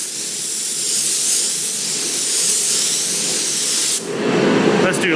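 Spray primer being sprayed onto car bodywork in a cold shop, a loud continuous close hiss that breaks off near the end before a brief sputtering resumption.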